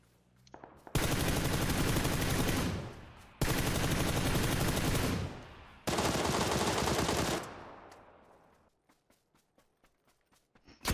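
Three long bursts of rapid automatic gunfire from the PUBG video game, each lasting about two seconds with short gaps between them, followed by a series of fainter single shots trailing off at the end.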